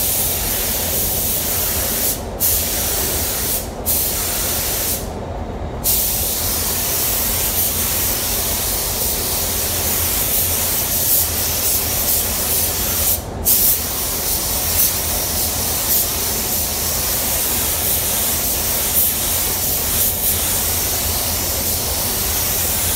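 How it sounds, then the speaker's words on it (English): A spray gun with a 1.4 tip sprays Sikkens Autowave paint on a Scion XD, hissing steadily and continuously for a long stretch, a loud, even broadband rush broken by a few brief pauses. "I'm going to be spraying this with the Sickens Auto Wave."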